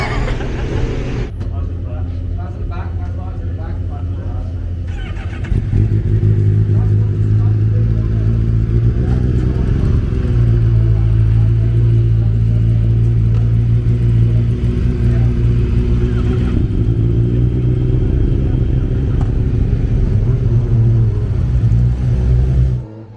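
A Honda Fireblade BSB superbike sits in the pit lane at Monteblanco, idling with a low rumble before the revs rise. It pulls away steadily and loudly, and the engine keeps droning as it moves off.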